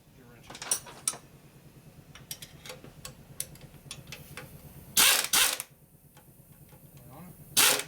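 A wrench ratcheting on a chrome bolt of a Harley shovelhead stroker big-bore motor, a string of quick close clicks with a few louder clanks, under brief talk.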